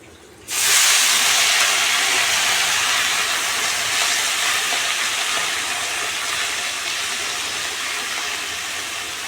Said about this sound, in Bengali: ফোড়নটা ভাজা হয়ে গেছে দিয়ে দেবো শাকগুলি